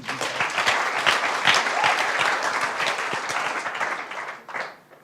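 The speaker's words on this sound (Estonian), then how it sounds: "Ja miks mitte aplodeerida?" An audience applauds at a student company showcase, a dense, steady burst of clapping that holds for several seconds and then fades away at the end.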